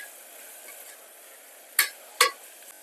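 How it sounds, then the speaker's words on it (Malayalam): A utensil stirs beef dum biryani in a pressure cooker, a faint background sizzle broken by two sharp metallic scrapes and clanks against the pot, close and loud, with no speech. "ഇളക്കി കൊടുക്കാം."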